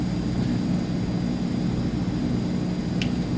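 Steady, loud airplane engine drone in Microsoft Flight Simulator 2024 while taxiing on the ground, a constant low hum with a brief click near the end and no talk.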